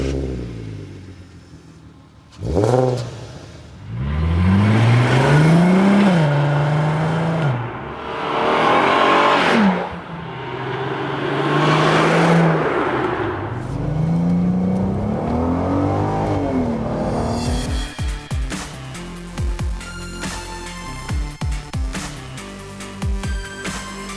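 A VW Golf Mk4 R32 with a naturally aspirated VR6 six-cylinder engine revs and accelerates through several loud, rising gear pulls, then settles into a rougher idle burble with engine ticking near the end.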